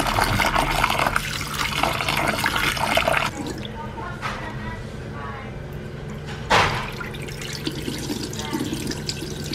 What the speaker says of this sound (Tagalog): So yan na guys, yung ating mulberry. Hugasan lang natin.